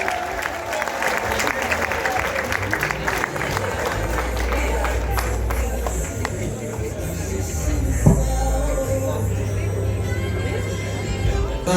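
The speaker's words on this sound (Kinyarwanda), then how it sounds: "natwe tubaha amashyi menshi cyane n'impundu" Wedding guests applaud steadily with a dense crowd roar, shouts and possible ululation mixed in, continuous and fairly loud throughout with voices heard over it.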